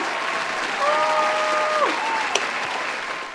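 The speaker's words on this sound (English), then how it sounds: "Let's start with a huge round of applause for the lad who made this all possible, Bruce Ricketts, everyone." A large audience at an evening event for veterans gives a steady, full round of applause. A few sharp whistles cut through the roar and a single loud pop stands out.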